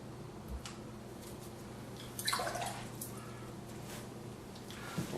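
A watercolor brush loaded with clean water wets paper during an outdoor sketch, giving a soft wet swish about midway, faint dabs and ticks before and after, and a quiet hum beneath, with no voices.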